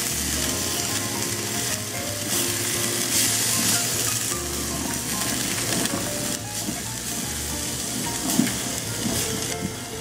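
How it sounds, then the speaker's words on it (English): Butter and onions sizzle and fry steadily in the bottom of a soup pot, a close continuous crackle with occasional stirring scrapes and clicks. "So we got butter and onions kind of caramelizing in the bottom here."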